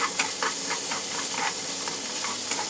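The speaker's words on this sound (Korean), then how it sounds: "이어서 양파를 같이 넣고 볶아줍니다" Carrots and onion stir-fried over high heat in a pan, a loud hissing sizzle with rhythmic scraping strokes of the spatula, close and continuous with no speech.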